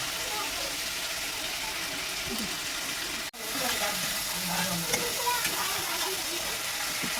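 Ginger paste fries in a pan with a dense, steady sizzle and hiss, broken by a brief pause midway, close up.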